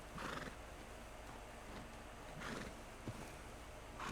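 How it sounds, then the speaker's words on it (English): A horse in Red Dead Redemption 2 whinnies repeatedly, three short, faint neighs at roughly even intervals over a low, steady background, with no talking. "Mi caballo."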